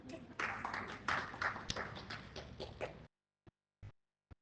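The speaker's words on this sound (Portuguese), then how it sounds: "Palmas para ela aí" A small audience claps for a woman during a Catholic lecture on Jesus and the Virgin Mary, a steady burst of indoor applause for about three seconds, then a few scattered final claps after it dies away.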